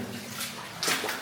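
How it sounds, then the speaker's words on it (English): Running water trickles and splashes across the floor of an abandoned underground mine, a soft, close, hissing flow with a brief louder splash near the end. "Lots of running water on the floor, isn't there?"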